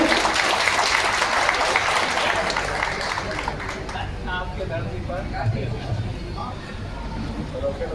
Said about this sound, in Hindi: क्या आप जोरदार तालियों से इसका स्वागत करेंगे